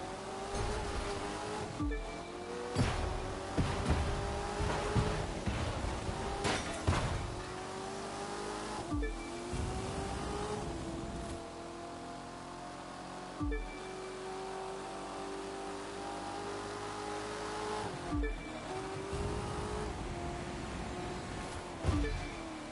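A car engine revving and shifting while driving off-road over hills in the racing game The Crew 2, rising and falling in pitch with repeated gear changes and sharp thumps from rough terrain, steady and moderately loud.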